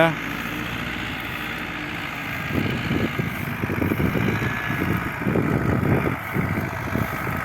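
An MTZ-80 tractor engine drones steadily at a moderate distance while discing a field, its low, uneven rumble thickening partway through as the load on the discs grows.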